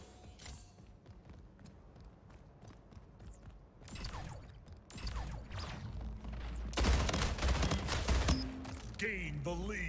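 Rapid bursts of battle rifle fire from the video game Splitgate crackle in quick volleys among mechanical clicks and game effects, moderately loud throughout.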